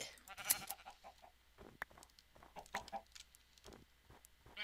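Sheep in Minecraft bleat faintly among other farm animal noises, with scattered short calls over quiet game ambience.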